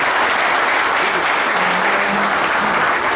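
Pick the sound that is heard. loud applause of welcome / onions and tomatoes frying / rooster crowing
loud applause of welcome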